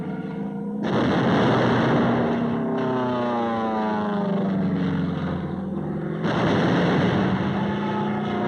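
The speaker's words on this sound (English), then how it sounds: "supporting ships deliver point-blank fire." Naval gunfire from supporting warships off Iwo Jima in 1945 comes as loud, heavy booms, one near the start and another late, over a continuous droning roar, with no voices.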